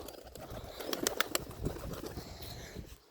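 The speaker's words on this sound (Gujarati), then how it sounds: "જો મિત્રો કેમ ઉડે છે" Pigeons take off nearby in a quick burst of flapping wings, with the rustling trailing off over a few seconds and no talking.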